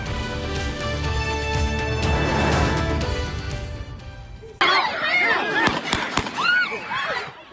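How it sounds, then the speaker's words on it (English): Gunshots at a minor league football game in Century, Florida: a rapid burst of sharp cracks heard at a distance through crowd noise, followed by a sudden cut to a loud, busy outdoor scene with more sharp pops. "What you just heard there was gunshots at a minor league football game in Century."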